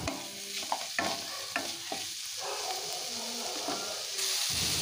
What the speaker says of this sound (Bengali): পেঁয়াজ টমেটোটা বেশ একসাথে ভালো করে একটু ভেজে নিচ্ছি